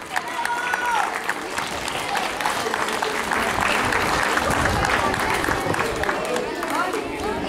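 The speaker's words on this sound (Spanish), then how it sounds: "Un fuerte aplauso para Ainhoa." Loud sustained applause from a school audience at a student souvenir ceremony, a dense crowd clapping steadily for several seconds with some chatter and cheering mixed in.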